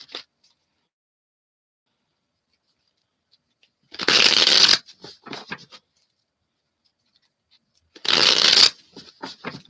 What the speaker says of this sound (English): I got to shuffle my cards backwards. They're starting to bend too much.